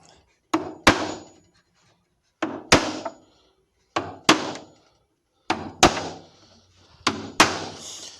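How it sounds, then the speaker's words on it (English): A small hammer taps on a wooden Christmas gift piece being assembled, striking a sticking-up spot in five quick pairs of sharp, close knocks, each pair a light tap followed by a harder blow, with silence between. "Let's get one of our little hammers because it is sticking up."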